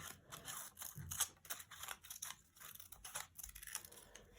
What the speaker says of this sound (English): I just cut little triangles out, tiny little triangles